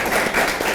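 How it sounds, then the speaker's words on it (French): Brief applause from an audience for an ambassador at an event, a short burst of several quick claps under a faint voice. "Je vous demande de l'applaudir très très très fort"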